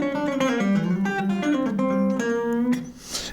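A quick hybrid-picked electric guitar lick plays alone, a run of clear, bright notes with string skipping moving through a short melodic phrase.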